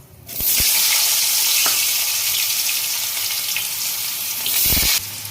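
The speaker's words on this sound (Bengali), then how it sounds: "একটু তেল দিয়ে দিলাম আমি গরম হয়ে গেছে একটু হলুদ দিচ্ছি ওগুলো ভেজে নেবো" Loud, steady sizzling of turmeric frying in hot oil, with a couple of brief clatters near the start and end.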